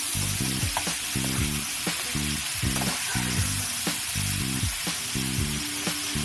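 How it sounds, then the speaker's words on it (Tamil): Chopped tomatoes sauté in hot oil in a pan for chicken kulambu, giving a continuous close sizzle and frying hiss with occasional stirring over rhythmic background music. "இப்போ வந்து நம்ம வெட்டி வச்சுருக்க தக்காளி சேர்த்துக்கலாம். தக்காளி நல்லா வதங்கி வரும்."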